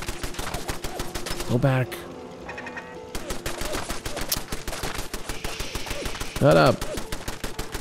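Fallout 4 gameplay with rapid automated turret gunfire crackling in dense repeated bursts, loud and close, as a player speaks over it and a brief pause interrupts the shooting.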